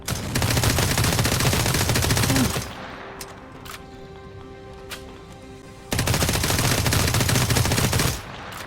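SMG fire in the game Dysterra: two long, loud, rapid automatic bursts of a few seconds each, separated by a quieter stretch of ringing tones and isolated clicks.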